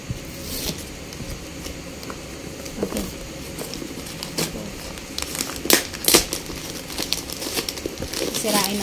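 Wrapping paper torn and crinkled off a wedding gift, close and busy crackling with sharp rips building toward the end, under a background of people talking.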